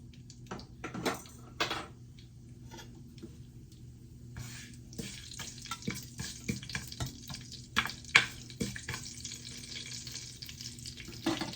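Mustard seeds, fennel and fenugreek temper in hot oil in a clay pot, giving soft, scattered crackles and pops with a few light clinks of utensils, close by and fairly quiet.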